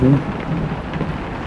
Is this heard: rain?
yes